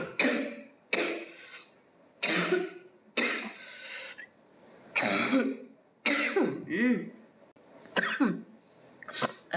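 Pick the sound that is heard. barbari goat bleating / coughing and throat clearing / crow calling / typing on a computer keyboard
coughing and throat clearing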